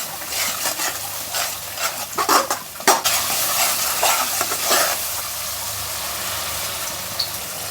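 Spices with cardamom, salt, turmeric, chilli, coriander and cumin powders sauté in a pan. A spoon scrapes and stirs in quick irregular strokes over a steady sizzle, close up, with no talking.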